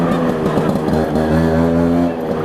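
A motorcycle engine pinned in first gear, loud and close, with a steady high-revving drone that rises and wavers in pitch throughout.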